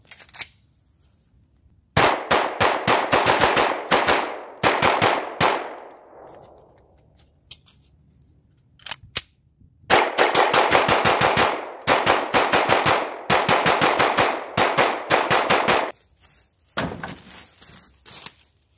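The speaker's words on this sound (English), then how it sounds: "That sure was a lot of shooting." A PSA DAGGER pistol fired in rapid magazine dumps, long loud bursts of shots in quick succession separated by pauses, with a final short burst.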